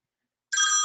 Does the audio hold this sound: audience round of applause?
no